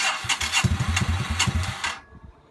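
A Yamaha SRV250 motorcycle's engine turns over in a quick series of low, uneven chugs as the rider works choke and throttle together. It sputters briefly without catching, then goes quiet.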